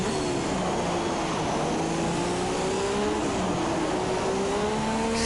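An F2 race car in a video game accelerates out of the final corner at the British Grand Prix, its engine note climbing steadily in a loud, continuous whine with rising pitch and no talk over it.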